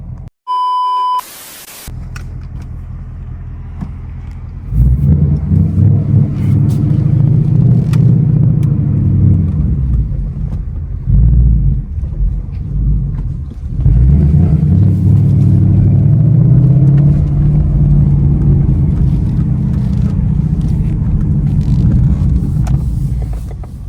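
Low, steady engine rumble and road noise from inside a moving Ford Mustang at night, rising and easing slightly, after a brief beep at the start.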